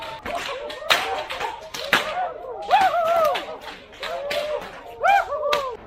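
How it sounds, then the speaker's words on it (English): During the Saleyudos Dance festival in Almolonga, Guatemala, masked participants crack whips in sharp, loud snaps at irregular intervals, mixed with yipping cries and crowd voices close by. "Locals don masks and wigs and carry whips."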